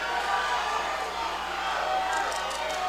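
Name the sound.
boxing crowd cheering and hooting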